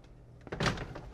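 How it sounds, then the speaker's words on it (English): Sliding keyboard tray on a desk being pushed along, a single soft thunk followed by a brief rolling slide, close and moderately loud, no talk. "sliding keyboard holder thing"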